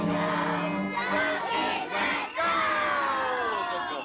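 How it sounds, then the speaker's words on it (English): A children's studio audience at a 1952 Howdy Doody television show cheers and shouts together in a loud, sustained roar, with a brief dip midway before it swells again. "Let's give a round cheer for Howdy Doody's here."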